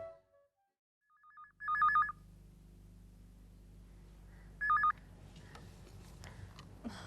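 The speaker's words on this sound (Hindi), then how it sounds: "डिंगी जरा फोन लगा।" A telephone line rings twice in short electronic bursts while a call is placed in an indoor drama scene, with a low steady hum and faint background noise between the rings.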